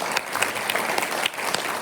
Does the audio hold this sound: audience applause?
yes